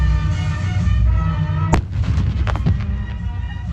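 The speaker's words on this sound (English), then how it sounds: "you have just witnessed the simulated firing of the bund blasting device at Ayub Canal" Simulated firing of a bund blasting device at a canal during a military engineering demonstration: one sharp booming blast over a steady low rumble, followed by a few weaker cracks, loud and distant-sounding.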